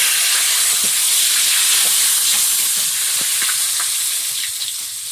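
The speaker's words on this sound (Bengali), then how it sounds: "এই তেলের মধ্যে একটু গোটা গরম মশলা, তেজপাতা দেবো" Whole garam masala and bay leaves sizzle in hot oil with a steady, close hiss and faint crackles that hold evenly throughout.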